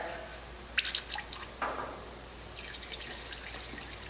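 Cooking oil drains from a commercial fryer as a faint trickle and a few scattered drips, quiet and close, with small splashes standing out near the start.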